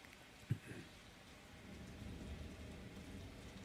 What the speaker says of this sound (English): Yeah, it's raining really hard.